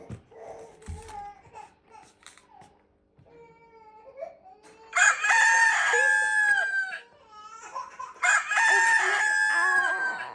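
A rooster crows twice, loud and close, with quieter clucks and small bird sounds before the calls.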